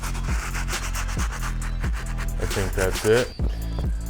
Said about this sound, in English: Stiff bristle brush.